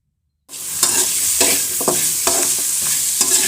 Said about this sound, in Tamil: உப்பையும் போட்டு நம்ம நல்லா வதக்கிக்கலாம்.